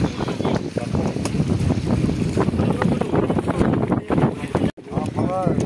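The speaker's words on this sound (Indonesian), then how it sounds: "Ombak guys, Banda Nera ombak." Sea waves washing around a small fishing boat near Banda Neira, with wind buffeting the microphone and people talking over the churning water.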